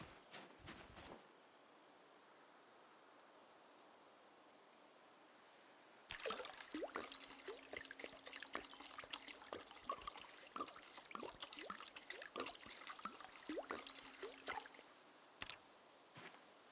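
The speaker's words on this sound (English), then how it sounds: "Water from outside." Water trickles and drips outside, a faint, uneven liquid patter that swells for several seconds amid quiet background hiss, with occasional sharper splashes.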